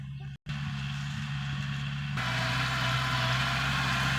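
A farm tractor's engine drones steadily while driving along a rural Thai road through a tunnel of trees, a loud low continuous hum after a brief dropout near the start, with no talking.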